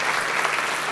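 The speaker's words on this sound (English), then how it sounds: "Let's give a round of applause for that inaugural State of" A crowd at Fairfax County Public Schools' inaugural State of Our Schools event bursts into applause, a thick, even wash of many hands clapping throughout a brief moment, with no voices standing out.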